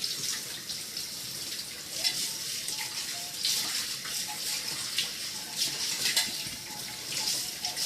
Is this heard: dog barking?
no